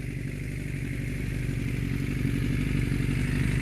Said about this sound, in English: Sound is of a motorcycle.